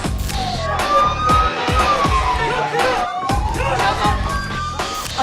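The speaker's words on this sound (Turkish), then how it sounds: "Biz siren sesini verdiğimiz anda" A police siren wails up and down through a noisy crowd, with cheering and thumping sounds close by.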